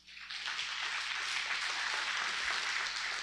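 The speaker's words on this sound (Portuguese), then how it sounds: "Aplauda bem forte ao Senhor." A congregation applauding during a church service, a broad wash of many hands swelling in quickly and holding steady, moderately distant and even in the hall with no voices over it.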